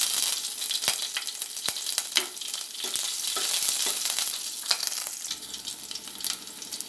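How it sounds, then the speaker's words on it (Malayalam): Curry leaves and chillies crackle in hot oil with mustard seeds for a Kerala aval breakfast dish, a close, continuous sizzle dotted with sharp pops and spits, no voices. "അപ്പോൾ ഇതിനകത്തോട്ട് നമുക്ക് കുറച്ച് കറിവേപ്പിലയും മുളകും കൂടെ ഇട്ട് കൊടുക്കാം."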